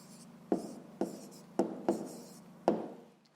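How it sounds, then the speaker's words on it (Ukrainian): Pen strokes as an answer is written by hand on paper, five or six short scratchy bursts with sharp starts, close and quiet, with no voices. "Записуємо відповідь. І пишемо місто, називається Глухів."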